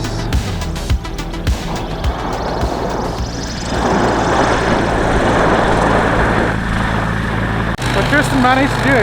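A propeller-driven bush plane lands, its engine droning loud and steady close by, the roar swelling midway and holding, with a brief dip near the end as the aircraft slows.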